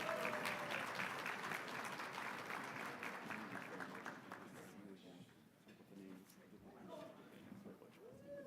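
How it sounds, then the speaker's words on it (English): Audience applause from a gathering fills the room as a dense patter of many hands, strongest at first and gradually thinning, with voices talking underneath toward the end. "Let's give them all a big round of applause."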